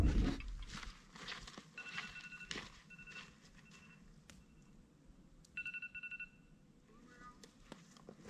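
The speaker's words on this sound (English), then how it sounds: "That was my alarm." A phone alarm rings outdoors at a campfire cooking site, with short repeated electronic tone bursts in a patterned rhythm, faint, alongside light rustling and footsteps.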